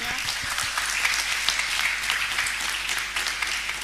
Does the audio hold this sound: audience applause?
yes